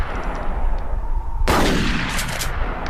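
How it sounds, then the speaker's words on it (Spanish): A shotgun blast in a quiet rural night setting, one loud close boom with a long decaying echo after a steady background hiss. "Luego se escucharon los tiros de una escopeta."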